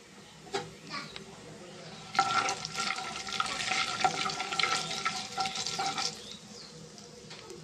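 Cumin seeds crackle and sizzle in about four or five spoons of hot oil in a pan, a close, bright frying hiss that swells midway with a few stirring knocks around it.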